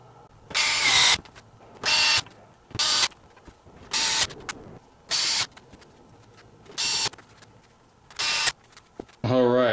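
A power driver screws fittings into a large display case for a model DeLorean during assembly, in eight short bursts of buzzing whir separated by pauses, close and fairly loud.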